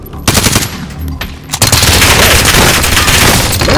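Rapid automatic gunfire in a video game, loud and dense, with a couple of single shots before a long sustained burst of continuous firing.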